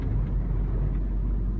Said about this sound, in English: Let's put that in 6th and just maybe put that in 5th. I'm about to stall my car.